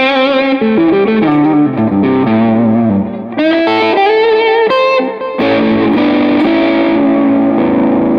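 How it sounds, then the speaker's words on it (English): Overdriven electric guitar through a Tube Screamer 808 model on an HX Stomp, tremolo off, playing chords and single notes, thick and saturated with a warm, round distortion, loud and alone. "I've switched off the tremolo for the overdriven sound, and I've just included a scream 808"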